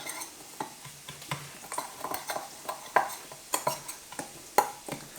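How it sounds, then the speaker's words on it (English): A spoon stirs coriander powder into a thick spice paste in a pan, with repeated close scraping and clinking taps against the metal in an irregular rhythm over faint background noise, no voices. "if I just get a spoon, we can stir that round"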